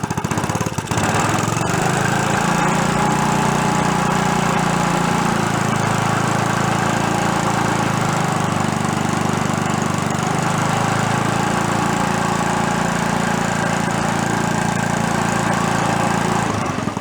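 A 1962 Homko snowblower engine runs continuously near the listener, a loud, steady small-engine drone with a slight uneven wobble in its pitch, no talking over it.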